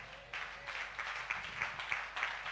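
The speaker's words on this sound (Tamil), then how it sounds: "கைத்தட்டுக்க பார்க்கலாம்." A church congregation at a Sunday service claps together in a steady rhythmic beat, a fairly even pulse of hand claps filling the room at moderate distance, with no talking over it.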